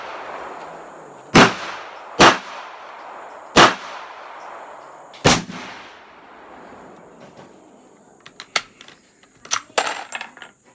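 8mm Mauser rifle fired outdoors at a range, four loud sharp reports spaced a second or two apart with fading tails, then a cluster of lighter quick cracks and clinks.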